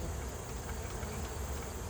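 Bees buzzing around the edge of an open beehive in summer, a steady, low, continuous hum that stays at an even, moderate level throughout, with no talking.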